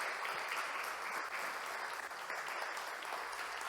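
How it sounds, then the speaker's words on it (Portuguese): A congregation at a worship gathering claps steadily in a continuous, even wash of applause, moderately loud and unbroken, with no voices standing out. "Se você pode aplaudir Jesus."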